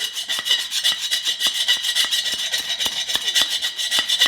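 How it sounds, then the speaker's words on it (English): A hand file deburrs drilled holes in engine stand parts with quick, even back-and-forth rasping strokes, close and bright, keeping a steady rhythm throughout. "Take a file and deburr the holes"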